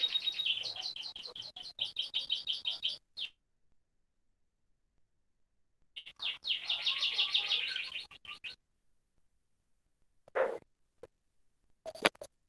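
Pet birds chirp and tweet in quick repeated bursts, with a long pause between runs and a few short, isolated calls near the end, heard close by with no talking.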